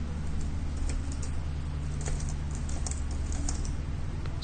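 Typing on a computer keyboard while entering random characters as R commands, a steady run of light, quick key clicks over a constant low hum, close and moderately quiet with no voices.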